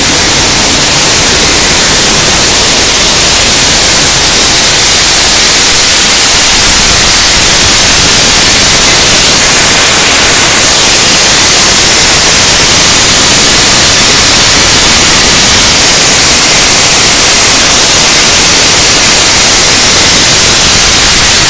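Farm machine cleaning harvested beans, removing splits and small beans, gives a loud, steady broadband roar of rattling and rushing grain that continues without a break for the whole stretch, with no talk.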